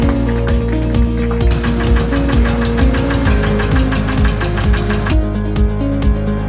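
A tofu grinding machine runs steadily in a tofu factory, a loud, close mechanical drone with rapid rhythmic knocking throughout, no voices present.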